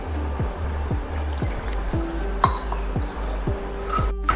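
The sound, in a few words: washing a grinding stone and pestle with water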